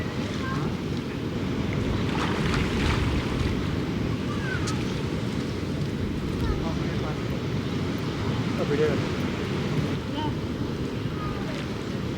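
Ocean waves and wind at the beach make a steady, full roar of surf with gusting wind noise on the microphone, continuous and fairly loud the whole time.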